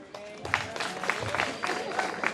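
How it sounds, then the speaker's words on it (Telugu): Audience applause at a national tobacco control programme event in Jagtial, a scattered patter of clapping from a modest crowd that builds in uneven bursts, with people talking underneath. "రెడ్ షర్ట్ మంచి ఆయన చప్పట్లు కొట్టండి అబ్బాయికి"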